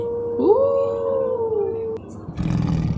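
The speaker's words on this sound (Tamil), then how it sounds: "இன்னும் ஓநாய்," A wolf howls once, a long, clear, wavering tone that rises and then slowly falls before cutting off, with a brief stretch of talk-like sound afterward.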